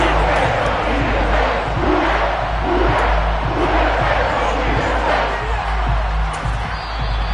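Home crowd roaring steadily at a 49ers football game, a dense, loud wall of cheering and shouting that holds throughout with little letup.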